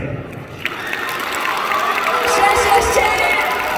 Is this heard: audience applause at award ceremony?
yes